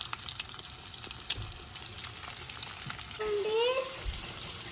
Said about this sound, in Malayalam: ബട്ടർ നല്ല ചൂടായി വന്നിട്ടുണ്ട്. ഇതിലേക്ക് നമ്മൾ സാൽമൺ ഇട്ട് കൊടുക്കുക.